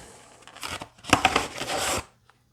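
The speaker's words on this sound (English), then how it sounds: "Let's go ahead and cut that open" Tape being sliced and torn open on a postal service package nested inside another package, with bursts of ripping and crinkling close by, loudest in the middle, then stopping abruptly.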